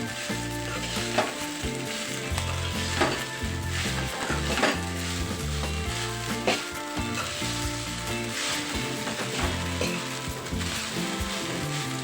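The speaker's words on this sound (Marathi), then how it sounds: "याला 2-3 मिनिट असंच परतून घ्यायचं, म्हणजे याचे दाणे जे आहेत ते एकदम खिले बनतील" Sabudana khichdi stir-fries in a pan over a slow gas flame, a steady close sizzle broken by soft scraping stirs throughout.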